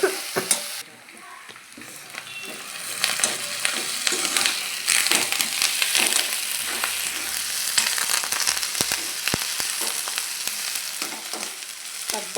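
Food frying and sizzling steadily in a pan alongside cooked eggs, with a clear continuous crackle and occasional stirring scrapes, close and fairly loud, no talking.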